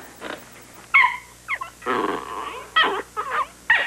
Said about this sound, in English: Out! Out, you bad dog.